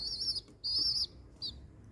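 Classic Hünkari pigeon chicks give thin, high peeping calls, three short cheeps close by in an otherwise quiet space.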